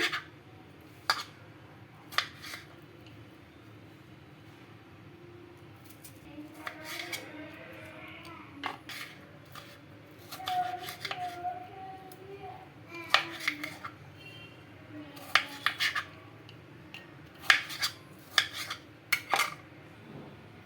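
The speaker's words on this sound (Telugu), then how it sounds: "ఇంకా ఇక్కడ టమాటో కూడా కట్ చేసుకుంటున్నానండి" Tomatoes being cut with a knife for a chutney, sharp intermittent taps of the blade on a board scattered through the stretch over a low background hum, close and moderately loud.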